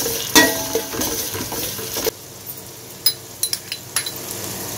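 A spoon stirs garam masala and salt into a chicken tikka biryani mixture, giving a soft sizzling bed with scattered clinks and scrapes against the pot, busier at first and then sparser, with no talk.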